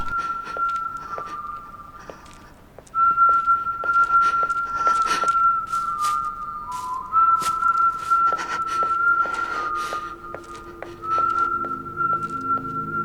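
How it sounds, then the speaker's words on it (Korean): A lone, steady whistled melody with long held notes on a dark, empty street at night runs through the clip, accompanied by light clicks and rustling, and footsteps faintly underneath. "희미하게 들려오는 휘파람 소리"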